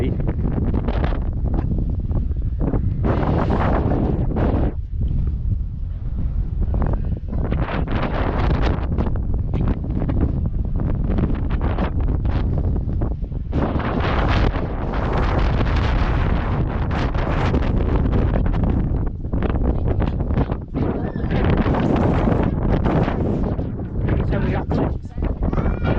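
Heavy storm wind at Caernarfon Castle buffets the microphone almost continuously, a loud rumbling roar that swells and dips for the whole stretch.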